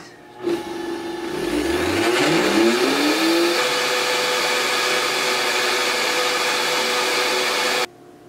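An electric grain mill grinds teff into flour, starting up with a rising whine and then holding a loud, steady grinding roar for several seconds before cutting off abruptly.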